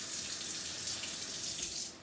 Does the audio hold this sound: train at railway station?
no